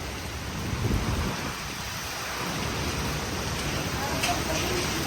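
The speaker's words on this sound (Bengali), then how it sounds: "এতটা বৃষ্টি হচ্ছে যে বলার বাইরে, অনেক বৃষ্টি এখানে" Steady heavy rain hisses throughout in a storm at Sitakunda, with a low rumble of thunder swelling in the first couple of seconds.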